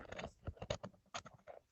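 Quick bursts of keystrokes as a password is typed on a computer keyboard, a run of uneven taps with short pauses, fairly close and clear with no talking.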